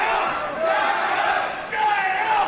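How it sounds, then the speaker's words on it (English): A large wrestling crowd at a show in China roars and chants in loud, swelling waves, filling the arena with continuous massed voices. "This crowd's going nuts."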